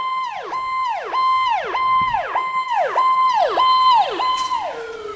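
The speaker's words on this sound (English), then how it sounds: "got an ambulance coming by" A loud, close ambulance siren at a Veterans Day parade wails in rapid repeating cycles, each sweep rising then dropping sharply, about eight cycles with no talking.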